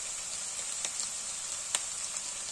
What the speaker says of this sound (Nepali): फ्राई पनि हुन आँटिसक्यो।